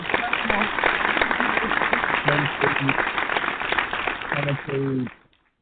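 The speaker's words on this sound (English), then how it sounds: "Let's give him another round of applause for that." A studio audience on a barbershop talk radio show claps for a player after a great game, loud sustained applause with voices talking over it, cutting off sharply at the end.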